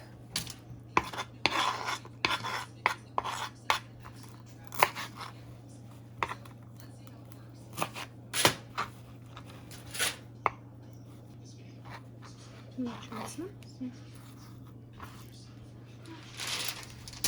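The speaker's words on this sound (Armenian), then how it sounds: "Այսպես, սամիթը կտրատենք" Dill being chopped with a knife on a board, a run of crisp, irregular cuts close by, some bursts quick and some spaced, over a steady low hum, with a few clinks of utensils.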